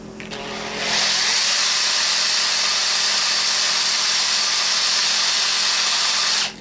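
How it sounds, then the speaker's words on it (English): An electric drill spins steel wool against a brass piece to polish it, a loud steady whirring grind that starts after a second and runs evenly before cutting off near the end. "So I'm basically just spinning the drill and running the steel wool on it."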